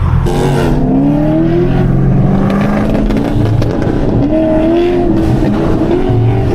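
Cars racing a BMW M2 on a public road, with loud close engines revving and accelerating in rising, shifting tones and a constant roar throughout.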